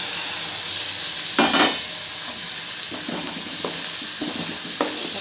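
Tomatoes sautéing in a pan for bottle gourd kootu, a steady frying hiss broken by several scraping stirs of a spatula against the pan, close and clear with no talk.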